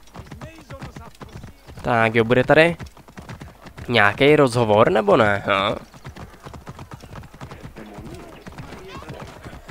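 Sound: horse hooves galloping in Assassin's Creed Origins video game

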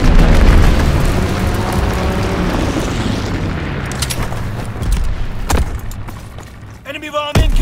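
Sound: bomb explosions in Call of Duty WWII video game

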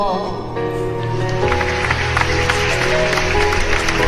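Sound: audience applause after a poetry recitation

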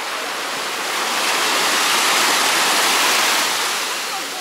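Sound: sea waves at Cleopatra Beach, Alanya

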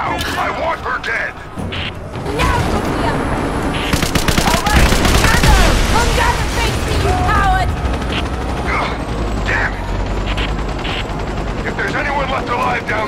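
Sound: gunfire in the video game Rise of the Tomb Raider

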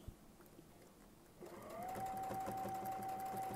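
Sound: sewing machine stitching a quilt border with Westalee ruler

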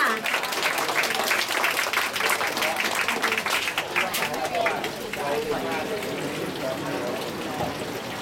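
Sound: audience applause

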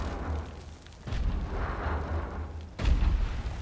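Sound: gunfire in the video game Wolfenstein

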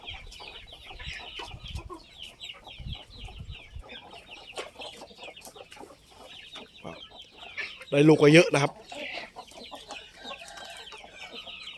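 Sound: chickens clucking, fighting rooster and hen

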